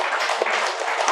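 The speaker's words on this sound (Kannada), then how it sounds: "ಒಂದ್ಸಾರಿ ಜೋರಾಗಿ ಚಪ್ಪಾಳೆ" A crowd at an Ugadi festival celebration applauding loudly with dense, steady clapping that carries on without a break through the whole moment.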